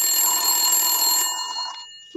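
A telephone rings with a steady, bright electronic trill that holds for a while, then fades and cuts off just before the end.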